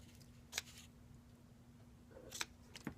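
Scissors trimming paper craft, a few faint, crisp snips spaced apart against a quiet background.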